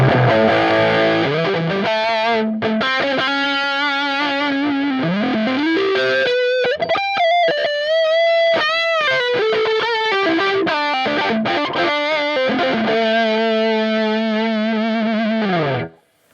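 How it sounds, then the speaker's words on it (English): An electric guitar runs through a crunchy distortion preset on a Line 6 HX One effects pedal, playing sustained, gritty chords and bending notes that ring loudly and continuously before cutting off abruptly at the end. "Maybe some distortion-y, crunchy things. Distortion and crunches."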